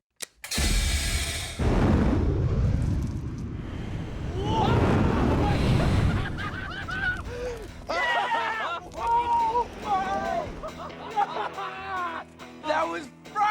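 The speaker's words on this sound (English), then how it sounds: "Non-dairy creamer cannon in 3" A non-dairy creamer cannon fires a dust explosion in a sudden loud whooshing roar that rolls on for several seconds, followed by excited shouting and talking.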